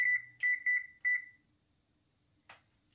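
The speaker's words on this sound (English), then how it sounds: "Set my timer for 15 minutes." A kitchen timer being set while breakfast cups bake in the oven gives a few short, clear electronic beeps in quick succession, then stops, with a faint click afterward and no talking.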